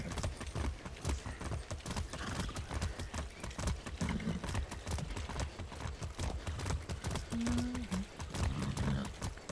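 A horse gallops in the video game Far Cry 6. Its hooves beat fast and steady for the whole stretch, and a short whinny sounds partway through.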